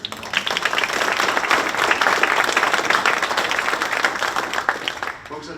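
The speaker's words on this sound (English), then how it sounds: "Please give her another round of applause." A room full of guests at an alumni awards luncheon applauds, a dense steady wash of clapping that holds for several seconds before tapering off at the end.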